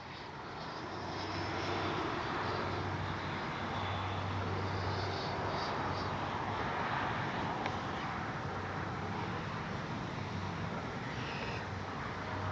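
An FMS Avanti S 90mm electric ducted-fan RC jet whooshes steadily overhead as it circles in to land, a continuous airy turbine-like roar with a low hum underneath, holding fairly even loudness throughout.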